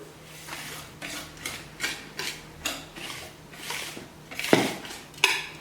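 Repeated scraping and clinking of a utensil against a bowl while mixing sugar and salt for carrot cake, steady stirring strokes with a few sharper knocks, close by and fairly quiet.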